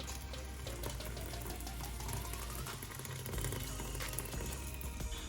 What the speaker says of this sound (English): I'm going to add some hot water to my spinach